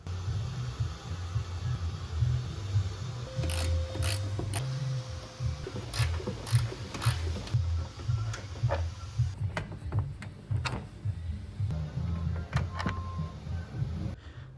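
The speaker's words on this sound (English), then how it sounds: "Next up is loosening the fan shroud so we can remove the radiator." A ratchet loosens the fan shroud bolts on a first-generation Toyota Sequoia, giving quick clicking runs in several separate bursts, close up over a low, steady background hum.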